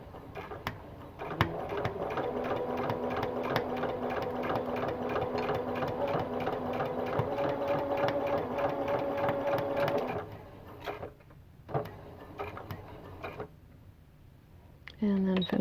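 A sewing machine stitches a hexagon fabric seam in a steady, continuous whirring run for about ten seconds, then stops, with a few brief bursts of stitching and handling noise afterward; a voice talks over part of it.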